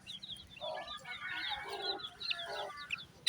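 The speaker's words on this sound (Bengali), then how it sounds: "এই দেখেন ছোট্ট ছোট্ট হাঁসের বাচ্চা, এগুলো আমার অনেক পছন্দ" Small ducklings with their mother duck in a village yard, giving a busy stream of high peeping and clucking calls, fairly close, with some short sharp chirps toward the end.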